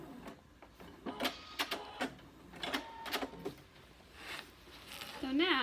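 A sewing machine back stitches a seam, giving short, uneven bursts of mechanical whirring and clicking spaced across the clip, fairly close, ending in a brief rising whir.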